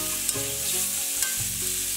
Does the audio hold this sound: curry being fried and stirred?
yes